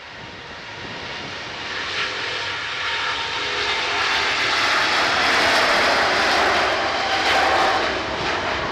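A Qatar Airways jet departs Manchester Airport, its engine roar building steadily and staying loud and continuous throughout, with no voices over it.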